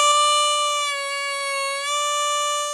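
A bent draw note on hole 4 of a C harmonica, held loud and close, its pitch sagging and wavering slightly as the bend is held through the whole stretch.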